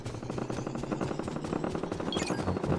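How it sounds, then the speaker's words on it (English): Rapid automatic gunfire in Fortnite VR, aimed at the player, chatters in a loud, steady stream of closely spaced shots lasting the whole moment, with no speech over it. "Okay, somebody's shooting me."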